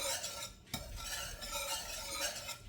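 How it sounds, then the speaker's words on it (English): A whisk scrapes steadily around a pan as cream cheese melts into a sauce for a chicken dish, a continuous close scratching swish with a brief bump partway through and no voices. "And we'll continue to whisk this together."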